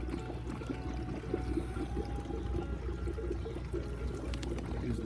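Water pours steadily from an inlet tube into a deep water hydroponic growing system fed through a control valve, a continuous close trickling splash with no talking.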